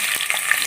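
Tomatoes frying in oil with cinnamon and cloves in a pan of onions, a steady broadband sizzle with a few soft stirring scrapes, close and alone with no talk.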